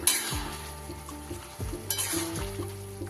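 Fried chicken pieces drop into bubbling chilli chicken gravy in a pan, bringing close sizzling, stirring and spoon scrapes against metal in a few uneven bursts, without speech.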